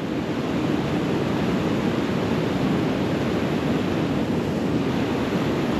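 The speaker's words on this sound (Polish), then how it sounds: "Ta woda tutaj strasznie huczy" Loud, steady roar of rushing river water at a busy fishing spot, a continuous broadband wash close by with no breaks or voices.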